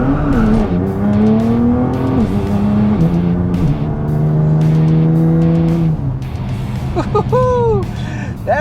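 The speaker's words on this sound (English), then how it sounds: "That's launch control." A Nissan GT-R R35 launches under launch control, its engine note climbing through steady gear-by-gear pulls with brief shift breaks, loud and close from inside the car, ending in a whine and a few squeals.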